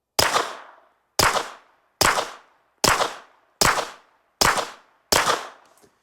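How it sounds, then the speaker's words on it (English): Seven suppressed shots from a Ruger RXM pistol fitted with an Obsidian 9 suppressor, each a sharp, loud crack with a short decaying tail, fired at a steady pace about one per second. "Now we're gonna shoot suppress, see what kind of host this bad boy is."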